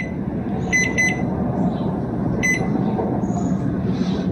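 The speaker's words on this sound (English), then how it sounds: "So the timer just went off" An oven timer beeps in two short paired bursts, a bright electronic double beep heard twice over a loud steady fan-like hum from the oven while cookies bake.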